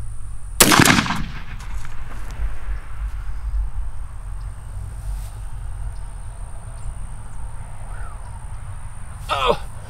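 A 20 gauge shotgun firing a TSS turkey load outdoors: one loud, sharp blast early on, then a long quiet stretch of outdoor background with a faint sound near the end.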